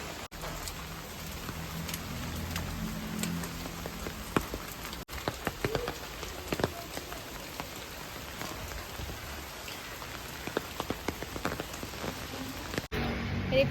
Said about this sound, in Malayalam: സോ അങ്ങോട്ട് ഇപ്പോൾ കുറച്ച് മഴ കുറവുണ്ട്